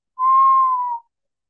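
A voice imitates the whistling of air escaping from a punctured cow lung, one steady, clear whistle about a second long, close and loud, with silence around it.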